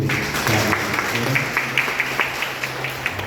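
A congregation at a church feast (Dukrana Ootu Thirunal) applauds two priests. Dense, continuous clapping fills the hall at moderate loudness over a low steady hum, with a few sharper claps standing out near the end.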